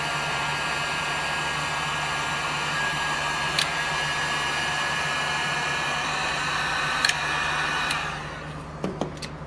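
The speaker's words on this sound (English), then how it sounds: "that's the last step, we're going to heat shrink it" Heat gun shrinking heat-shrink tubing over a crimped flat terminal, a steady loud blowing roar that holds for several seconds with a few faint clicks, then cuts off near the end.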